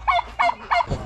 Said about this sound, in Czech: Dobrý den, slepice!